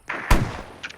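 A single gunshot fires in a video game, one sharp, loud close blast with a brief booming tail, preceded by a short whoosh and followed by faint clicks.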